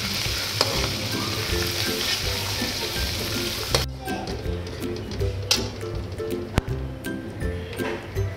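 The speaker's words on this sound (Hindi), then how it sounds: "ये देखिए लहसुन और प्याज फ्राई हो गया।" Chopped onion and crushed garlic sizzle steadily in a hot pan, with occasional stirring clicks and scrapes breaking through the close, continuous frying hiss.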